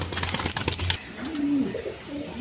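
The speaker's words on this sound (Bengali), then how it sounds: "এখানে এক পেয়ার রেশার কবুতর আছে।" A pair of racer pigeons gives a low, drawn-out coo, preceded by a brief burst of busy background noise, with a softer second coo trailing near the end.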